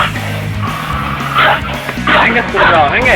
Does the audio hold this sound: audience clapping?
no